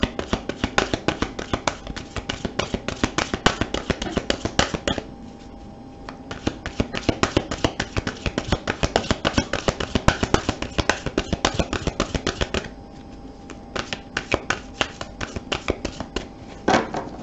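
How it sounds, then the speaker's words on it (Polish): Tarot cards riffle and slap in rapid, close bursts of crisp flicking, with short pauses between runs of shuffling. "dlatego potasuję karty i od spodu wybiorę piątą kartę"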